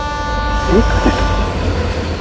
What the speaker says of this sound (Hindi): ये तो ट्रेन की आवाज है।